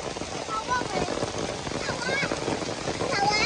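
Dense, steady rain pattering hard on surfaces in a village in southern Garut, Indonesia, loud and continuous, with faint voices murmuring underneath.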